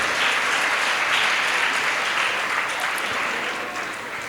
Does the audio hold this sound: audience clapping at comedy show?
yes